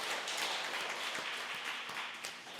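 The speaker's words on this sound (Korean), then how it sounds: "우리 다시 한번 박수로 감사의 뜻을" A church congregation applauds together in dense, steady clapping that fills the room and tapers slightly toward the end.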